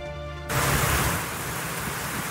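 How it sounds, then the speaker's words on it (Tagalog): Heavy rain falls in Daet, Camarines Norte, a dense, loud, steady hiss that starts abruptly after a brief tonal lead-in and keeps going without talk. "Ramdam naman ang malakas na ulan sa ilang bahagi ng Daet, Camarines Norte."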